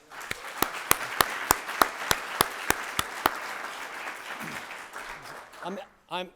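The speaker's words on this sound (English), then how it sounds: "Let's give these 6+ participants another round of applause." An audience at a fall 2019 University of Baltimore business competition applauds its participants: sharp, evenly spaced claps near the microphone over a broad wash of crowd clapping that fades, then a voice begins to speak.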